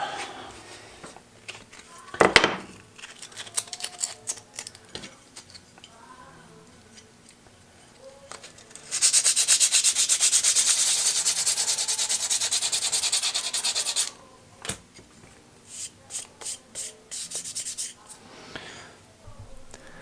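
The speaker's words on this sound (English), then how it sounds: "I'm just going to continue sanding the whole thing" Sandpaper strips rubbing over the metal of a Sargent 414 hand plane during restoration, scattered scrapes and then a long, loud continuous stretch of sanding before it breaks back into short strokes, with some talk around it.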